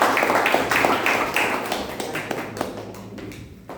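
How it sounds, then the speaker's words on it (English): A room of people at a Toastmasters meeting gives a round of applause to welcome Toastmaster Rajiv. The quick, close claps are sharp at first, then thin out and fade away. "with a huge round of applause"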